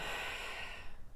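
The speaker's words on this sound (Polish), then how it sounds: "Głęboki oddech" A single deep breath during a guided meditation, a soft, airy rush that holds steady for about a second and then tapers off, close and alone.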